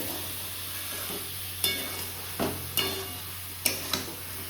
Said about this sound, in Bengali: ইঁচড়টাকে আমি দিয়ে দিয়েছিলাম যাতে মশলার সাথে ভালো মতো কষে যায়